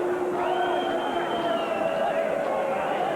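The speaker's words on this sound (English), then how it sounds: "And the crowd are booing" A boxing arena crowd boos in a long, sustained drone during a fight between Scott Harrison and Victor Santiago, with a commentator talking over it the whole time.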